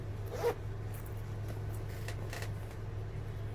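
A zipper on a handmade vintage-style barrel bag pocket is pulled in a few short rasping strokes, close and fairly quiet over a low steady hum.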